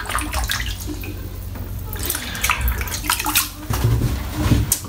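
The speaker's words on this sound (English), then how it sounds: "Washed off my hands really easily" Running water rinses shaving cream off hands at a sink, a continuous close splashing flow with shifting bursts as the hands move under the stream. No voices are heard.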